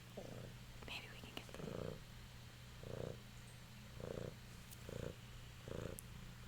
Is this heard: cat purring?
yes